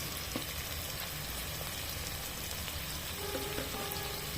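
Chicken meat sizzling in a rice cooker, a steady soft hiss and crackle of frying that carries on evenly throughout. The sound is faint and close, with no talk.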